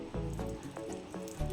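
Roti frying in oil in a pan under a covering dish gives a steady, close sizzle with a few soft pops, alone with no voices.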